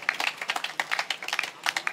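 Applause at a large Mass celebrating a Jesuit high school's anniversary, a sparse, faint patter of individual claps in quick irregular rhythm, thin and distant rather than a full crowd roar.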